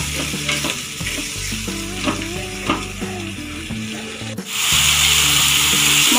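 Spice paste with sour yogurt being stir-fried in a pan for a fish egg curry, rhythmic scraping of a spatula under sizzling, then a louder burst of frying, no voices.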